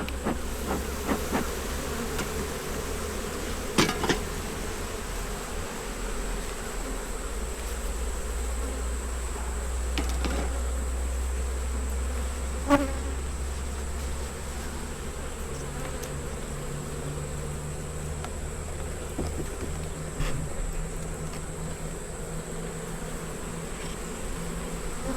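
Honey bees hum constantly around an open hive during an inspection, a steady close buzz with occasional clicks and knocks of frames and tools, no talking.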